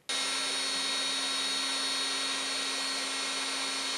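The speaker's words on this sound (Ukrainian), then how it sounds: "Хвилі майстриня створює за допомогою будівельного фену" A steady, loud electric whine of a heat gun blowing air to shape resin waves, constant from start to finish with a faint hum underneath, then cutting off.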